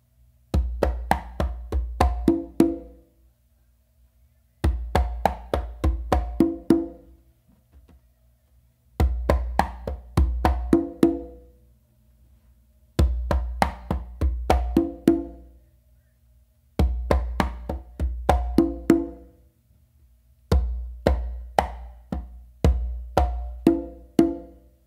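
Congas play a full pachanga rhythm of basses, slaps and open tones in six repeated bursts with short gaps between them, the hand strokes sharp, close and resonant, with no voices.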